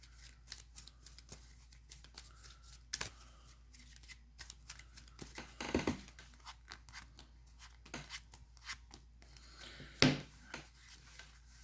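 Close-up shuffling of a small Yu-Gi-Oh speed duel deck, quiet card flicks and riffles in uneven bursts, with a few sharper louder snaps of cards near the middle and end.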